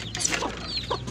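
Backyard hens cluck near newly hatched day-old chicks, which chirp high and thin in quick bursts, all close by.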